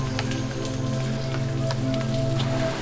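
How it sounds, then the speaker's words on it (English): Raindrops fall from rainforest trees after rain in a New Zealand reserve, a steady wash of scattered drips and patters close by with no voices. "we've had the sound of the raindrops falling from the trees"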